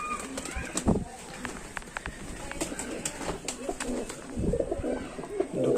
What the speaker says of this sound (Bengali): তো অনেকটাই টেডি পায়রা এখন আছে, এখানে বাচ্চাও কিছু আছে।